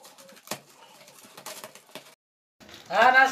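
A pigeon coos in a few short, soft, throaty calls, fairly close, in a quiet setting with a brief pause before a louder burst of sound at the end.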